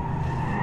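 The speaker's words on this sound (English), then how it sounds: "There's still people up there on the hill drifting." Drifting cars' tires squeal and skid at a big winter drift event, a brief loud sustained screech heard alone.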